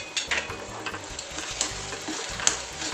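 Potato masala for dosa filling, seasoned with coriander and salt, being stirred and fried in a pan, with a steady close sizzle and irregular scraping and clinking of the spoon against the pan.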